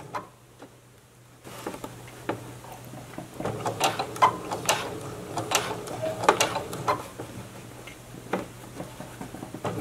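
Sewing machine stitching down an invisible zipper, a quiet pause and then a run of rapid, uneven mechanical ticking and clicking from the machine, close up with no talking.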